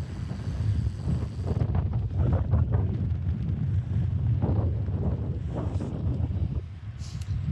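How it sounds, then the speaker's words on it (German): A cyclist rides into a headwind on an Audax brevet near Schleswig, and steady wind buffets the microphone with a loud, continuous rumbling roar. "wieder genau gegen den Wind."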